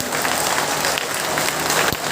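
A crowd claps loudly and steadily at a political party gathering, the applause close and unbroken, with a brief louder burst near the end.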